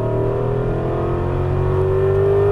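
An Aston Martin V8 Vantage engine pulls hard under steady throttle on a racetrack in Las Vegas, heard from inside the car as a loud, continuous drone with a slowly rising pitch and no talking.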